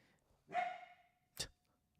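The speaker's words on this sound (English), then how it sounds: "So if you hear barking, it's because he's barking." A single dog bark rings out at moderate distance, followed a moment later by a short sharp knock or second yip, in an otherwise quiet room.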